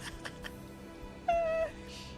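A single cat meows once in the video game 13 Sentinels, a short, clear, slightly drawn-out call rising above quiet background game ambience, with a few soft taps before it.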